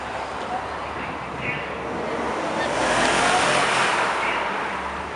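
BMW M3 sedan engine revving and accelerating on a winter street in Seattle, a broad roar that swells to a peak midway and then eases off, heard from the roadside over traffic noise.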